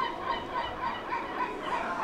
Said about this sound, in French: C'est pas vraiment relaxant et apaisant avec le chant des mouettes.